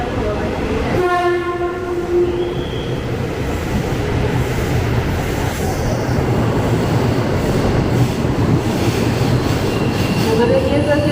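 A KAI Commuter electric train on the Bogor Line pulls into Jakarta Kota station: a tonal chime or horn at the start, then a loud, building rumble of wheels and motors on the rails.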